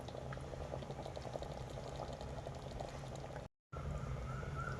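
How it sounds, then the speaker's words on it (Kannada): Curry with thick yogurt and fresh cream simmering in a pan, a faint, steady bubbling and soft crackle that continues evenly throughout, briefly cut by a short gap of silence. "ನೋಡಿ, ಕುದೀತಾ ಇದೆ."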